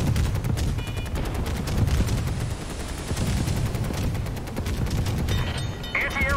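Naval guns firing in the Steel Ocean warship game, a dense rolling barrage of rapid repeated shots and booms that stays loud throughout, with faint game effects near the end.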